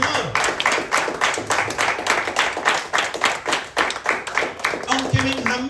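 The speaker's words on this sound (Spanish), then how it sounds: "Aplauda al Señor." A church congregation in Cali, Colombia claps in a steady, rhythmic beat, loud and close, with a brief voice or musical tone near the end.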